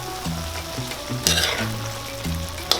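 Black beans are stirred in a hot frying pan for paklay with lemongrass, giving a loud sizzle broken by rhythmic scraping strokes of the spoon and a sharp clack near the end, with no talking.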